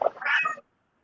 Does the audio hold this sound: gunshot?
no